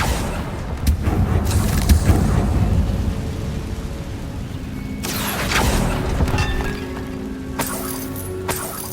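A Confringo fire spell explodes in Hogwarts Legacy, a deep booming blast with crackling, glassy debris, followed by further bursts and rumbling impacts spread over several seconds, loud and close.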